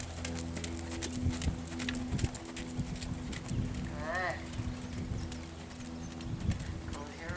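A horse's hooves clip-clop in a steady rhythm during a riding lesson at a dressage clinic, with an instructor talking over the hoofbeats.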